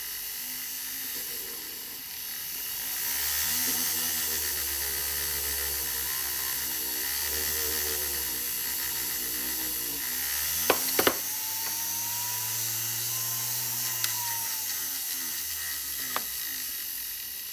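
A high-pitched power hone whines steadily as carving gouges are polished with rouge, a continuous motorized drone with slight pitch shifts and a few sharp ticks near the end.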